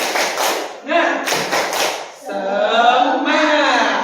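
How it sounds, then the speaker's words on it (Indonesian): A class doing a rhythmic spirit clap chant, loud close group claps in short bursts alternating with voices chanting in unison. "Tepuk semangat."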